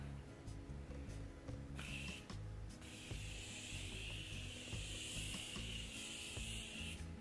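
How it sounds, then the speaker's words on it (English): A steady, bright hiss of a fine mist of Morphe makeup setting spray starts after a brief burst and continues for several seconds, close to the microphone, with low rumbling underneath. "take some Morphe setting spray and set my makeup"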